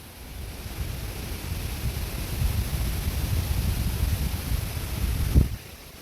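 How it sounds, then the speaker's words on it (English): Strong gusting wind in a backyard garden, a steady broad roar of wind buffeting the microphone that swells and holds, with a brief louder thump near the end. "It is extremely windy."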